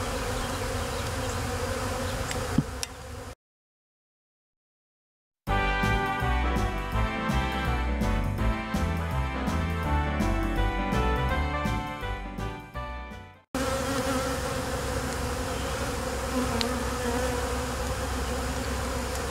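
Honeybees buzz around a hive in a steady, dense drone that drops out briefly and is interrupted midway by a different patterned sound before the buzzing returns.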